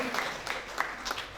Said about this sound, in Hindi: सर के लिए भी जोरदार ताली होना चाहिए